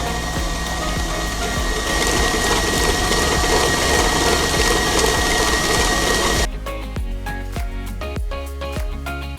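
An electric mixer whirs loudly and steadily as it beats cookie dough for giant Levain-style chocolate cookies, then cuts off abruptly, leaving faint clinks and taps.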